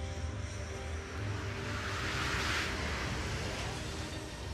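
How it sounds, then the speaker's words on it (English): Horten 229 jet fighter in flight on its first flight over a remote airfield, heard as a steady, continuous engine roar that swells slightly toward the middle and stays loud throughout, with no talking. "a top-secret jet fighter makes its first flight"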